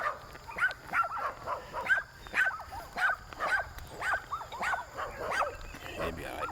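Dogs outdoors bark in a steady run of sharp, close yips and barks, roughly two each second. A faint high background tone hangs behind them.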